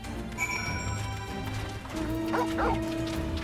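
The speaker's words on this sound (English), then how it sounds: "Dog." Dog barking in Final Fantasy XIV Stormblood, a couple of short yelping barks over game ambience with faint tonal music and background clatter.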